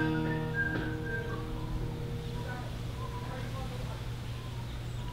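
A person whistles a few short tonal notes near the start in an outdoor garden setting among plants and compost, with a steady low hum underneath and speech nearby.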